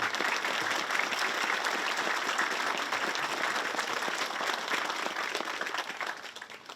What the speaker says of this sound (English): would you join me in thanking them with applause,